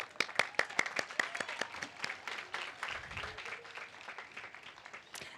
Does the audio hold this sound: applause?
yes